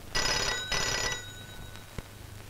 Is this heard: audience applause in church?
no